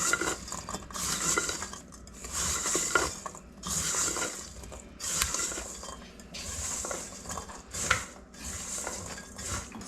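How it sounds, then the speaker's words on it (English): Walnuts are stirred in a pan to coat them, giving repeated rattling, clinking scrapes in bursts with short pauses between strokes, close and moderately loud. "I'm just going to stir this for about a minute until it's thoroughly coated"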